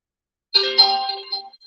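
A mobile phone rings indoors during a quiet lesson, a bright electronic ringtone of layered tones that sounds once for just over a second, clear and fairly close, with no talking over it.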